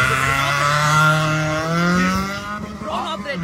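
A race car drives on a track, its loud engine revving with rising and falling tones close by, tires squealing briefly as it moves, with voices talking over it.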